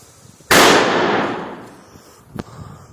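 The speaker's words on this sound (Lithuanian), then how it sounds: "Šešta dalis, kai mes sprogdinsime petardą." A single firecracker bursts with a sharp, loud bang close by, its crackling roar fading over a second or so, followed by a smaller pop.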